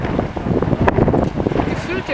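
Wind gusts along the Baltic Sea coast, buffeting the microphone with a continuous rough roar while people talk close by.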